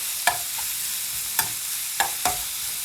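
Tomatoes being stirred into a dish in a cooking pan, with four sharp utensil scrapes or clinks spaced irregularly over a soft, steady sizzle, close by with no voices.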